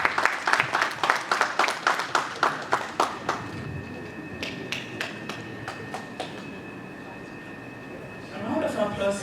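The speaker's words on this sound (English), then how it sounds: "A round of applause again for Clemens." Audience applause for Clemens at a speaking event, a burst of rhythmic clapping that fades into scattered claps, with background murmur near the end.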